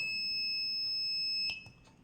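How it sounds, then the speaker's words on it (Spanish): A homemade laser tripwire alarm built around an LDR light sensor sounds a steady high electronic tone for about a second and a half, then cuts off, leaving a few faint clicks and background hiss. "se dispare la alarma cada vez que alguien corte esa luz del láser"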